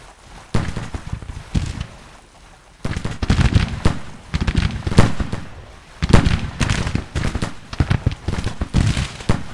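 Musket volleys and cannon fire crackle in a Civil War strategy video game, dense bursts of overlapping shots in repeated waves with brief lulls between them, loud and close.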